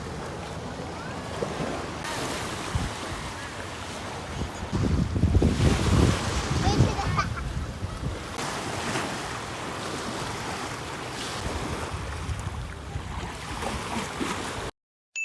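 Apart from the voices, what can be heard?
sea waves at the beach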